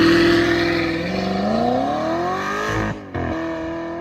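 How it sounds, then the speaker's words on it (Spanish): A 7-litre V8 muscle car engine accelerates hard at full throttle, a loud rising roar with climbing tone, then a brief dip as it shifts before pulling again. "El sonido de un motor V8 de 7 litros, acelerando a fondo"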